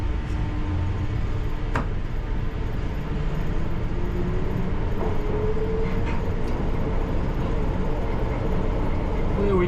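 A London Underground train runs between stations toward Wood Green, giving a loud, continuous rumbling roar from inside the carriage with a few faint clicks and squeaks over the steady noise.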